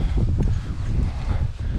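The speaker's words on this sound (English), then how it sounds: "It's windy." Gusty wind on a West Virginia hilltop buffets the microphone with a steady low roar and rustling, no voices present.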